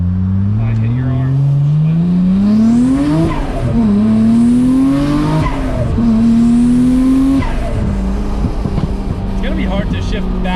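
A Nissan R34 GTR fitted with titanium intakes pulls at full throttle, its loud engine note climbing through several gear changes with brief dips between each rise, close and steady, while people talk underneath.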